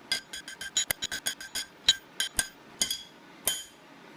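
Hammer blows shaping the end of a 3/4 inch steel rod into a wide, stout pyramid, ringing metallic strikes repeated about a dozen times in an uneven rhythm, close and fairly crisp with bright clinking overtones.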